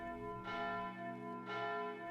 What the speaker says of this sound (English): each of the major cities now has a bell that will sing out whenever the city is under attack, like this